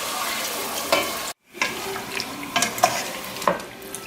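Chicken frying in a pan with ginger-garlic paste for biryani, giving a steady close sizzle with stirring scrapes and clatters, briefly cut to silence partway through.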